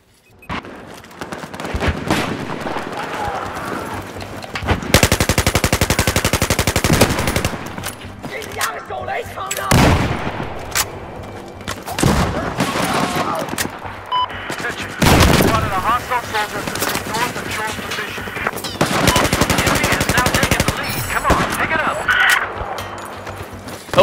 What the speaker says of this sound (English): I was just firing sporadically there.